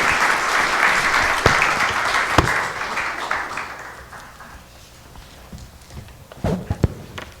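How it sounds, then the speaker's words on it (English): Conference audience clapping after a panel discussion at a housing affordability summit, a burst of applause that dies down into scattered claps and a few sharp knocks. "Will Fisher, Jeff DeBoer, Emily Cott, let's give them a round of applause."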